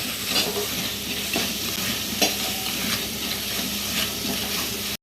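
Curry leaves and salt sauté in hot oil for a village-style mutton gravy, giving a dense close sizzle with scattered crackles and light stirring scrapes throughout.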